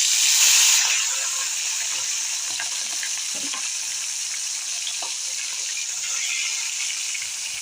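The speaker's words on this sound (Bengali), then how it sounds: "মাছগুলো ভেজে নেব।" Fish sizzling in hot oil in a wok, a steady bright hiss of frying that holds throughout with small crackles and pops, loudest at the very start when the pieces go in.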